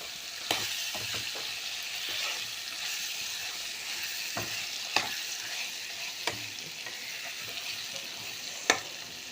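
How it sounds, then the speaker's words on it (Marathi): Brinjal cooks in spicy masala in a pan, giving a soft, steady frying sizzle with occasional sharp clinks and scrapes from a spoon stirring it, close and with no talking. "तर 1-2 मिनिटं असं मसाल्यामध्ये ह्याला शिजू द्यायचं."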